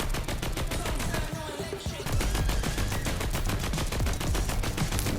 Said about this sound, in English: the LMGs have a whole new sound